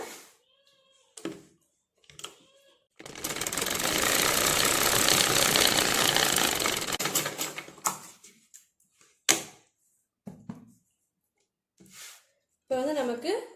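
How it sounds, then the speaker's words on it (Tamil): A sewing machine runs a quarter-inch line of stitching along a blouse patti in one whirring burst of about five seconds, with someone talking before and after it and brief handling noises in between. "இதுக்கு மேலே கால் இன்ச்சில் ஒரு ஸ்டிச் போட்டுருங்க"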